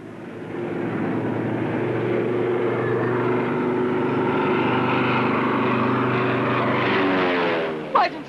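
Propeller airplane taking off from an airfield after someone jumps into the cockpit, a steady droning engine roar that holds loud and even for several seconds before a short burst of noise near the end.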